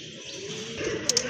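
Soft low cooing from a pair of domestic pigeons kept for sale, close and quiet, with a couple of brief higher chirps near the end.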